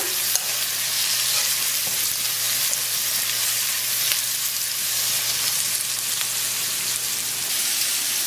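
Mushrooms frying and being stirred in a hot pan, a steady broadband sizzle with faint crackles running evenly throughout, close and fairly loud with no talking.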